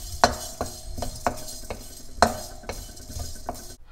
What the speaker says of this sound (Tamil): 2 கொத்து கருவேப்பிலை போட்டு நல்லா வறுத்துக்கலாம்.